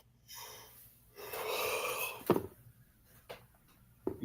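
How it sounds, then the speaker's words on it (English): Heavy breathing comes through a caller's microphone on a live discussion stream: a long rushing breath, then sharp snort-like sniffs and puffs, close and fairly quiet. "I hear you in there breathing, brother"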